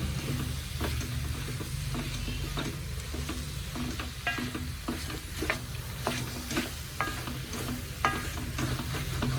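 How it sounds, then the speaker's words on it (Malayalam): Grated coconut is roasted and stirred in a pan, giving a close, steady dry sizzle cut by frequent scraping strokes of a spoon, with no talking. "തേങ്ങ ഒന്ന് വറുത്ത് പൊടിച്ചിടാം"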